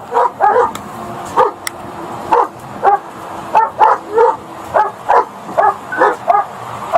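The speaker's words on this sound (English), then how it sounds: "Sonny, get your dog!" A dog barks repeatedly in loud, close, fairly regular bursts, some doubled, over a low background rumble, with no talking.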